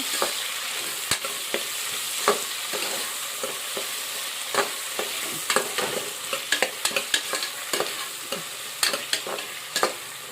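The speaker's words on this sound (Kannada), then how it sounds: "ಇವಾಗ ನಾನು ಫ್ರೈ ಮಾಡ್ಕೊತೀನಿ ರೀ ಒಂದು ಸ್ವಲ್ಪ ಎಣ್ಣೆಗ" Vegetables fry in a little oil while being stirred, a steady loud sizzle broken by frequent sharp scraping and tapping of the spoon against the pan, close up, with no talk.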